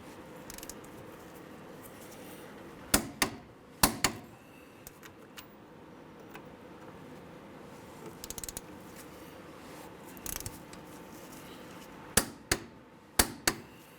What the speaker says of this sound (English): we're going to torque our caliper bolts down to 79 foot-pounds